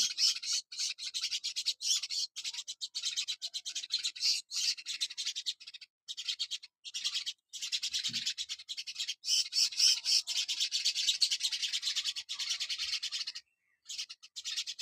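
A pet parrot perched on top of its cage gives harsh, scratchy squawks and rasping calls that run almost without a break, close and fairly loud, with short gaps and no talk.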